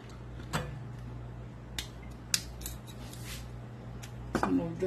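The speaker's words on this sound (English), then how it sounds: "you keep on cutting your avocado." A knife slices through an avocado being prepared for a quinoa and black bean salad, giving several soft, brief cutting clicks and scrapes over a low background hum.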